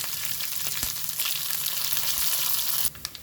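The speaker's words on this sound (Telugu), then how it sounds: "1/2 స్పూన్ ఆవాలు, ఎండుమిరపకాయలు, వెల్లుల్లి వేస్తున్నానమ్మా" Mustard seeds, dry red chillies and garlic fry in hot oil with a loud, continuous crackling sizzle and faint popping. Near the end a few brief stirring clatters sound over it, and then the sizzle drops.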